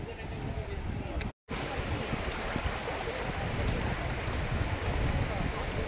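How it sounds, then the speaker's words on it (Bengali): Sea waves wash steadily onto the beach at Mousumi Island, a continuous broadband roar of surf and wind that fills the whole stretch, with one brief dropout partway through. "সমুদ্রের ঢেউটা দেখো একবার।"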